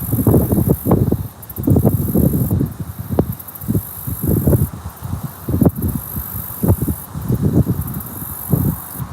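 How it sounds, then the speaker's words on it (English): Wind gusting at a lake shore during carp fishing, buffeting the microphone in rough, uneven bursts with a thin high hiss behind. "Wind's picking up"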